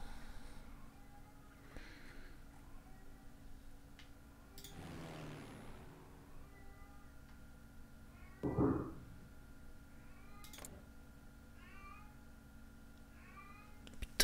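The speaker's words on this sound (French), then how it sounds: "Putain de chat, quoi." A cat gives a couple of short meows, one faint and one louder and closer, over a quiet background hum from the room.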